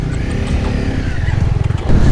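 Motorcycle ridden on a road on the way back from Jomsom, with a steady low engine drone and wind rush throughout at moderate cruising speed.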